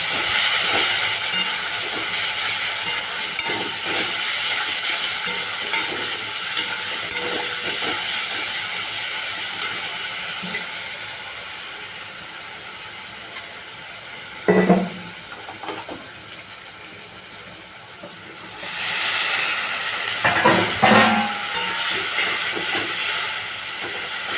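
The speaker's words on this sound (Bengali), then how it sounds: "দিয়ে এবার কষানো হবে এটা" Spice masala of coriander and chili powder with a small tomato and ginger sautéing in a pan: a steady, close frying hiss and sizzle throughout, with a couple of brief stirring clatters near the end and no talk.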